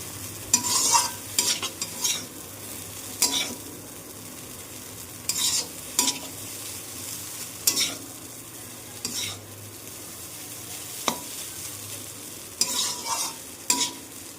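Egg chowmein is stir-fried in a pan, with a soft ongoing sizzle under a dozen or so sharp, rhythmic scrapes and clacks of a spatula tossing the noodles, close and distinct.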